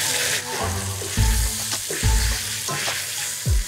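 Zucchini pasta with added tapenade being stirred in a hot pan, a steady loud sizzle broken by repeated low scraping sweeps of the utensil, close up and without voices.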